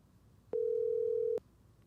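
A steady telephone dial tone sounds for just under a second while a call into a podcast connects, a single sustained pitch starting and stopping cleanly against a quiet background.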